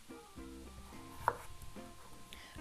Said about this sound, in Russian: мы приступаем к нарезку картофеля. Картофель также нарезаем небольшим